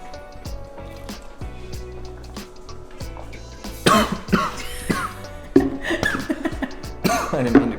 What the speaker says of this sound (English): I didn't mean to cough, I swallowed it wrong.